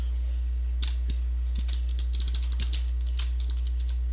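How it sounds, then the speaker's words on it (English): Rapid, irregular keystrokes on a computer keyboard, close and crisp, with a steady low hum underneath and no talking. "So now we're going to type in the body of the main function."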